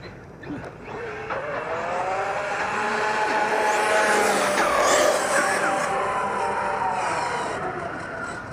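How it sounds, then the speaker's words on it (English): Big loud trucks racing in a racing video game, a sustained roaring engine drone with rising and falling revs and tire squeals, loud and continuous throughout, no talking over it. "Got these big old loud trucks coming through here."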